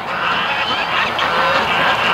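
Geese honk in a pen, a dense run of overlapping calls at close range, steady and loud with no talking.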